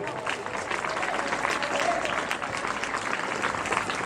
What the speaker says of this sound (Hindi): तो जोरदार तालियां बजाइए